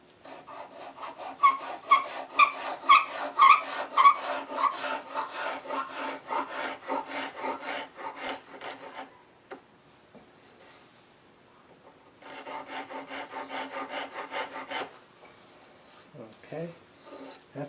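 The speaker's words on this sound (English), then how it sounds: "now I can even that out with a little scraping here" Hand scraper working the wood of a 17th-century bench side stretcher, a close series of rhythmic rasping strokes in two long runs separated by a quiet pause, ending with a few soft handling knocks.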